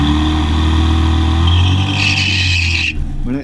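A BMW M3 swapped with a Ford Explorer V8 engine roars loudly during a quarter-mile drag run, a sustained close engine drone that rises in pitch before cutting off abruptly near the end.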